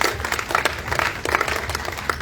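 Audience applause for the Indonesian film Gampang Cuan: dense clapping from a crowd, with bursts of claps swelling and easing over a few seconds at moderate loudness.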